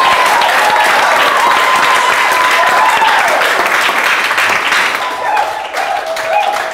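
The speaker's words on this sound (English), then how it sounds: "Please, a round of applause." A church congregation applauds loudly and continuously during a service, the clapping holding steady while a sustained organ-like tone rings over it before the applause eases slightly toward the end.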